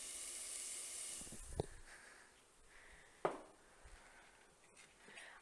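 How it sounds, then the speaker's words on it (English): Shallots frying in a pan while cooking pad thai, a faint, steady hiss and crackle of sizzling, with a couple of sharp utensil clicks and knocks over it. "Can you guys hear it sizzle?"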